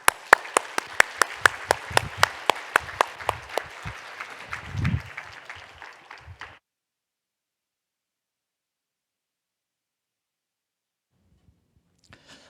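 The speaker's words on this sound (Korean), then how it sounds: "힘찬 박수 우리 선교사님 축복해드리고 응원해드리겠습니다" Church congregation clapping to welcome a missionary at a Korean Sunday service: a run of sharp, evenly spaced claps for roughly six seconds, then silence.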